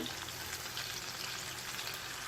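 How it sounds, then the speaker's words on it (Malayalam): Fish frying in a pan for fish molly crackles and sizzles steadily, with a faint, even spattering throughout. "ഇനി മീൻ നമുക്ക് തിരിച്ചിട്ട് കൊടുക്കാം. ഒന്ന് ഫ്രൈ ആയി കിട്ടാൽ മതി."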